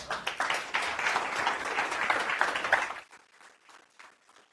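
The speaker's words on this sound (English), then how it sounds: "Round of applause for" Audience clapping at a tech showcase, a dense burst of applause for about three seconds that fades to a few scattered claps.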